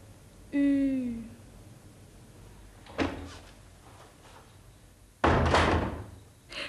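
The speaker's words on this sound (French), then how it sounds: "Quand une porte claque" A wooden door set in a wooden frame bangs shut with a heavy thud, preceded by a brief creak of the hinge and a softer knock, in a quiet room.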